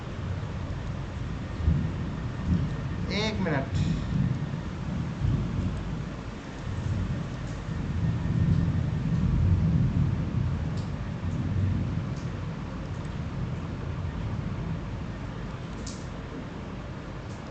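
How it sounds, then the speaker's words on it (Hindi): Heavy rain pours steadily with rolling thunder, and a sharp crack comes early. Someone speaks briefly near the start. "बड़ी शानदार बारिश हो रही है।"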